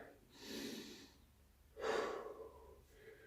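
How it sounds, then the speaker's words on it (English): Two deep, slow breaths taken during a chest-opening stretch in a beginner fitness session, a long inhale then a fuller airy exhale, close and quiet with no talking. "Take a nice big deep breath here."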